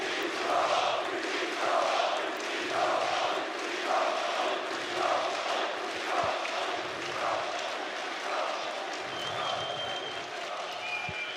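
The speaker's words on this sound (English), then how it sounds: "And now comes the chanting as well." An arena crowd at the IEM Katowice 2016 CSGO grand final chants in a steady rhythmic pulse, a big roomy wash of voices repeating the same beat over and over, with a commentator's voice faintly underneath.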